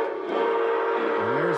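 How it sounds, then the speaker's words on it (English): A steam locomotive sounds its whistle, a loud sustained tonal blast held steadily with a rumbling train underneath and a bending low tone near the end. "And there's that whistle again."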